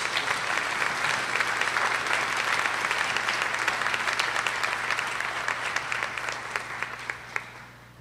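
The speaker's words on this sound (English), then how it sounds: "Please give them a collective round of applause." An audience at a fall honors ceremony in a performing arts center claps together in a sustained round of applause, dense at first and then thinning into scattered individual claps as it fades over several seconds, with a low steady hum underneath.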